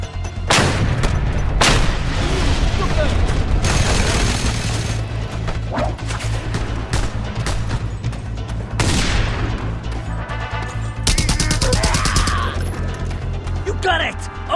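Sustained gunfire giving cover in Just Cause 2, loud rapid volleys and heavy booms crashing continuously, with voices shouting over the din.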